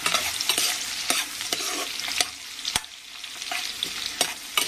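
Sliced onions frying in ghee for biryani, a steady close sizzle broken by sharp, irregular clanks and scrapes of a stirring utensil against the pan.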